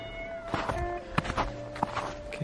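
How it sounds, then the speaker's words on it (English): Several cats meow repeatedly at feeding time outdoors in the Meteora, with short overlapping cries close by over steady background noise and a faint tonal hum. "cats have been fed"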